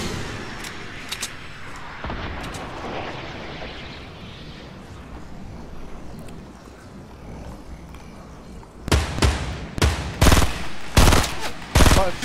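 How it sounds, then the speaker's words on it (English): Enemy gunfire in the video game Fortnite crackles in the background under faint talk, then sharp bursts of shots ring out loudly near the end. "Oh, they're shooting at us, aren't they?"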